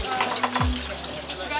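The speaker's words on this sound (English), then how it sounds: "This ended up being quite an intense hand wash experience." Hands being washed at a shop sink, with running water splashing steadily and closely throughout, under faint background chatter.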